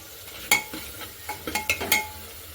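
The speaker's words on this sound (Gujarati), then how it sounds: "અને હવે આપણે તેને હલાવી લઈશું." Undhiyu vegetables being stirred in a pot with green garlic just added, heard as a series of close, uneven spoon knocks and scrapes against the metal with a faint sizzle underneath, with no talking.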